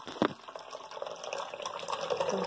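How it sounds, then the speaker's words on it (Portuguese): Tap water pours into a small pot, a close, steady splashing fill with a faint rising gurgle as it fills, heard alone without talk. "Primeiro a gente vai encher ele de água."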